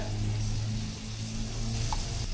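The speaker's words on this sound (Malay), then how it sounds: "Kita tumis dulu. Tumis biar atas cili bor ni masak dah." Chili paste sautéing in oil in a pan, a steady, even sizzle of frying that stays close and constant, with no talk over it.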